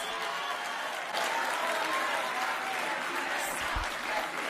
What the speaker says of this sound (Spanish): cuando digo Ayuso, oigo aplausos